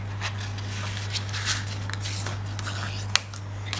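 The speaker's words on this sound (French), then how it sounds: "je prends mon plioir, je le place au milieu, je vais jusqu'au bout de chaque côté" Paper creased with a bone folder while making a small drawer box from a 16 by 16 sheet: faint, scattered dry scraping strokes over a steady low hum, with one sharper click near the end and no talking.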